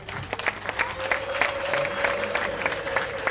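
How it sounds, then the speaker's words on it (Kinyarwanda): Applause welcoming John at a Rwandan betrothal ceremony, a steady patter of many clapping hands with a long high ululation cutting through the middle, moderately near. "ndagira ngo twakire John muri iki gitaramo n'amashyi menshi n'impundu"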